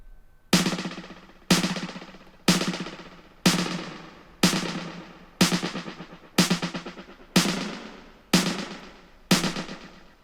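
Valhalla Delay plugin in ratio mode on a sharp percussive source, with about ten evenly spaced bright hits, each decaying into quick repeating echoes, close and loud with no voices.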